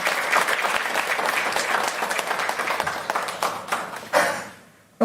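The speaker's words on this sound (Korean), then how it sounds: "감사의 박수를 부탁드립니다." A room of people at a church service claps in sustained applause that thins out and fades near the end.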